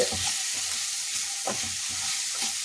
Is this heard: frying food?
yes